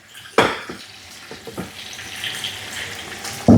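Water drains and splashes in a kitchen sink after pan-frying red snapper, with a loud clunk at the start and another at the end, plus a few small knocks in between.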